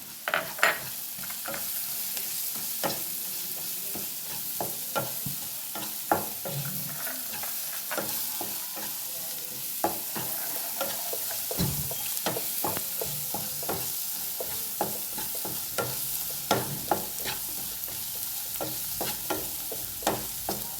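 A prawn curry masala with coriander powder fries in a pan with a steady sizzle, while a spoon stirs and scrapes with frequent close clicks and knocks throughout, without speech.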